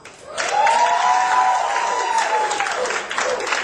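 Applause and cheering from a comedy club audience, rising fast and holding as a steady, fairly loud wash of clapping for a few seconds with crowd voices mixed in.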